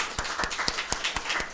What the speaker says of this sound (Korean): 우리 한번 크게 박수합시다.